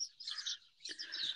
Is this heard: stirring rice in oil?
no